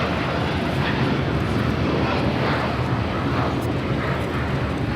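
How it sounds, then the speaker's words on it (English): A United Airlines Boeing 787-9 Dreamliner bound for Hong Kong takes off from Los Angeles, its engines a loud, dense, unbroken roar sustained across the whole stretch, with no talking. "801 now taking off to Hong Kong on a 787-9 Dreamliner"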